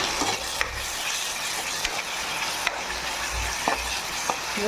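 Curry leaves fry in hot oil in a chicken liver curry, giving a steady close sizzle with a few sharp stirring clicks. No one speaks.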